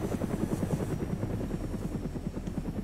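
A helicopter in the video game DayZ Epoch gives off a steady, fast rotor chop over a low engine drone, heard close and continuous throughout.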